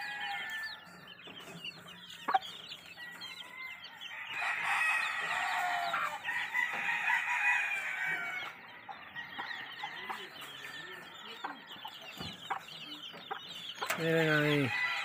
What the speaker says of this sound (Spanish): Miren ni cuántos animalitos hay aquí, Dios bendiga. Muchos pollitos, naciendo mucho pollo aquí